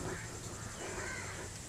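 A crow caws near a park lake, a steady rough call held over an even outdoor background, moderately faint and with no one speaking.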